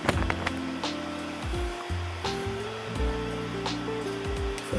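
A heat gun or hair dryer blows steadily on a 3D printed spring, a constant airy whoosh with shifting low hum and occasional clicks and bumps close by.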